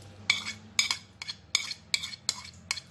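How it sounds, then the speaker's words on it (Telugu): Cucumber chutney with crushed garlic and onions being mixed with a spoon: about seven evenly spaced scraping strokes against the bowl, close and crisp, over a low steady hum, with no voices. "ఊరికే లైట్గా అసలు ఇలా స్పూన్తో కూడా మనం మిక్స్ చేసేసుకోవచ్చండి."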